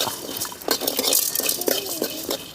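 Cumin, coriander seeds and garlic dry-roasting in a pan, a ladle scraping and clinking against the metal in quick uneven strokes, close and fairly loud.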